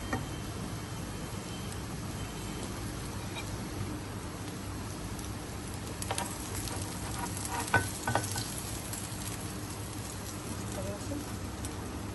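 Aloo tikki potato patties fry in a pan with a steady, soft sizzle and scattered small crackles throughout. A voice talks at times over the frying.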